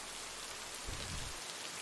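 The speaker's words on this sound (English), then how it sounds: "it's rain's getting heavier" Heavy rain pours in the video game Lake on a stormy night, a steady faint hiss of falling drops with a brief low rumble midway.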